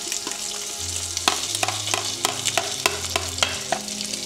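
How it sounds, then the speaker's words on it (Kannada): Poppy seeds, ginger and garlic drop into hot oil over cooked onions, sizzling steadily up close while a spoon stirs and scrapes the pan in repeated sharp knocks. "ಗಸಗಸೆ, ಶುಂಠಿ, ಬೆಳ್ಳುಳ್ಳಿ ಎಲ್ಲ ಹಾಕೊಂಡ್ಬಿಡ್ತೀನಿ"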